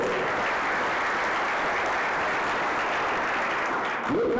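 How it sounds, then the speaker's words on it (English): A conference audience gives a dense, sustained round of applause that stays loud and even throughout, with a brief voice rising at the very end. "Give him a big round of applause."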